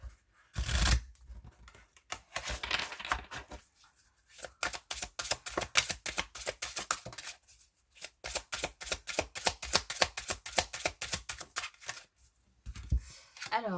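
Oracle cards shuffled by hand during an Aquarius oracle reading: close, crisp flicking and riffling in quick rhythmic bursts, with a sharp burst near the start and longer runs of rapid card slaps separated by brief pauses.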